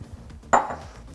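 Diced carrot and onion, cut into half-centimetre cubes, tumble into a cooking pot for fish soup with fennel, making a single short clattering thud that is near and moderately loud, with no speech.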